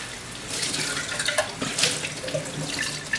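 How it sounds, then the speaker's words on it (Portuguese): Tap water running at a medium flow for rinsing, a steady close splashing stream into a sink with slight fluctuations, continuous throughout with no voices. "Importante que a gente não abra a torneira muito, podemos colocar um fluxo médio"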